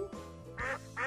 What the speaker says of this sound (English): It's a duck. What does the duck say? The duck says quack, quack.